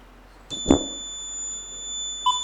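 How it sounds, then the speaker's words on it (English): A quiz show buzzer gives a thud, then a steady electronic tone that holds for about two seconds, ending with a brief blip. No voices. "get ready to press the buzzer"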